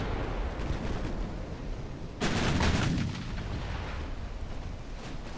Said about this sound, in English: Thankfully, our smaller guns are also opening up as well.